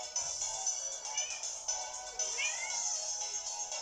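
A cat meows faintly, giving a few short rising meows over a steady background hiss.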